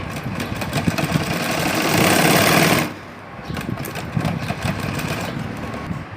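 A sewing machine stitches lehenga net fabric in a loud, close, continuous whir that rises in speed and pitch, cuts off abruptly, then resumes in a steadier rhythmic chatter.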